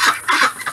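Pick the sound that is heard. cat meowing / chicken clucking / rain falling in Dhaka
chicken clucking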